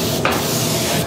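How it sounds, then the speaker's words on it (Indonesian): A spray gun hisses steadily as it sprays epoxy onto a custom Honda NSR R motorcycle body, a close continuous airy spray with a brief dip near the start. "Jadi langsung aja tinggal disemprot gini"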